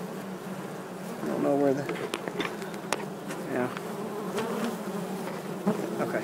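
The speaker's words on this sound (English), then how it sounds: "Bees are crawling all over it." Honey bees buzzing loudly and continuously during removal of a colony from house eaves, a close, dense droning hum with individual bees whining past, while a person speaks briefly over it.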